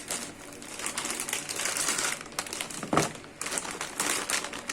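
A plastic bag of Americana frozen molokhia handled up close: continuous crinkling and rustling with a sharper crackle near the middle, steady and fairly loud, with no speech.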